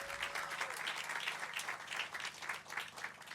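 An outdoor crowd at a Louisville housing authority groundbreaking ceremony gives the mayor and a council member a round of applause. The clapping is dense and steady, moderately loud, and carries on for the whole stretch.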